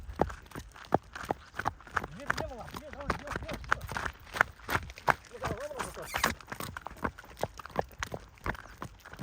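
Hooves of an Ardennes mare clop in a steady walking rhythm, close by, while people talk over them.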